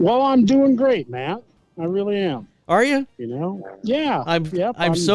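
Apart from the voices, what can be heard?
No everyday noises stand out.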